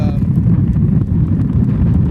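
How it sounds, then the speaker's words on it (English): Steady low rumble of wind buffeting the microphone while riding an e-bike uphill into a headwind, constant and loud throughout with no speech. "Definitely have a headwind on the way back uphill."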